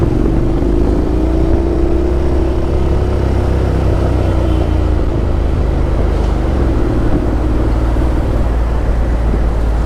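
A Honda X-ADV 750 motorcycle rides through Manila traffic, its engine a steady close rumble with slight pitch rises as it accelerates, mixed with surrounding road noise and no talk.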